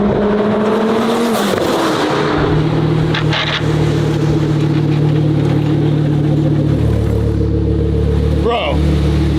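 A Lamborghini-style car engine drones loudly and steadily from inside the cabin, rising and falling with revs and shifts, while excited voices talk over it.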